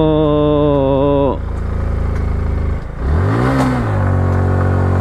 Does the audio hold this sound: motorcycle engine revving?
yes